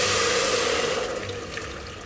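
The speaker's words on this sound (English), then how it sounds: "I'm going to pour in a litre of stock." A litre of vegetable stock, made from stock powder mixed with water, is poured into a pan of softened onion for broccoli and stilton soup, giving a steady, fairly loud rushing splash that fades slightly toward the end.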